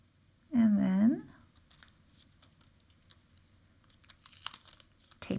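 Tape being pulled and handled while a ring finding is fixed upright over a tube of seed beads: a loud, brief stretchy screech of tape near the start, then soft, scattered crinkling and tapping close by.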